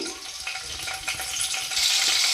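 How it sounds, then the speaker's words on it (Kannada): Cumin seeds and green chillies frying in three to four tablespoons of hot oil in a pan, a close, steady crackling sizzle that grows slightly louder toward the end. "ಎಣ್ಣೆ ಹಾಕ್ಕೊಳ್ಳಿ ತ್ರೀ ಫೋರ್ ಟೇಬಲ್ ಸ್ಪೂನ್ ಹಾಕ್ಕೊಳ್ಳಿ ಇದಕ್ಕೆ ಜೀರಿಗೆ ಸ್ವಲ್ಪ ಮೆಣಸಿನ್ಕಾಯಿ"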